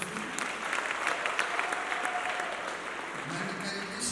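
A congregation applauds at a church wedding with steady, dense clapping from many hands at moderate distance, holding evenly throughout without a break.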